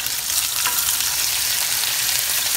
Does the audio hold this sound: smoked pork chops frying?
yes